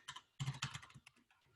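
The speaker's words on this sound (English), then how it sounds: "I can type in the email address here." Quick, light keystrokes on a computer keyboard as an email address is entered, several close taps in short clusters, isolated and fairly quiet.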